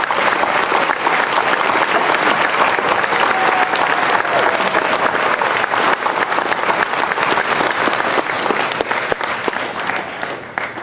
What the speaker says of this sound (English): give them a round of applause for what they've accomplished